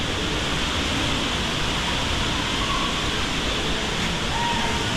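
Rushing water pours steadily at a river or falls in Tanay, Rizal, a dense, loud, continuous roar that fills the whole stretch with no pauses.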